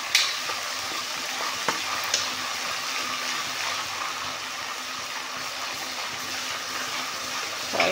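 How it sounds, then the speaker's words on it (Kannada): Garlic and ginger paste fries in oil for a brinjal masala, giving an even, loud hiss and crackle that runs throughout. A few faint spoon clicks sit on top of the sizzle. "ಈಗ ಚೆನ್ನಾಗಿ ಫ್ರೈ ಮಾಡೋಣ."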